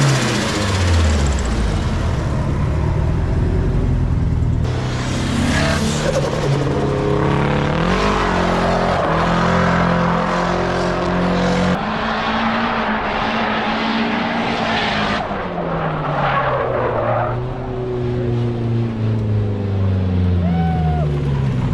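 A Nissan S14 runs a drift lap on a track, its engine loud and close with rising and falling revs and shifts throughout, sustained and continuous with some voice underneath.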